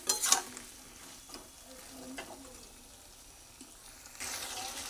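Spiny gourd malai curry is stirred in a pan after a little water goes in: a sharp clink and scrape of a utensil up front, then a soft, low simmering sizzle with scattered stirring scrapes, rising slightly near the end.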